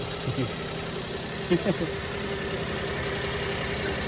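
A low, steady engine idle hums evenly in the background, smooth and quiet with its earlier knocking gone, with a few faint voice fragments briefly over it.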